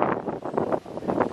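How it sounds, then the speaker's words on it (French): Strong wind gusts hard as a cyclone's eye passes, rough buffeting bursts in quick rhythm that pound and roar against the microphone, loud and close. "Et le vent commence à être de plus en plus fort"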